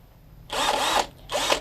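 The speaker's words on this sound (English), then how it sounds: "Got the drill." A Certa power drill whirs in two short bursts, a high steady motor whine that revs for about half a second, stops, then spins again, close and fairly loud.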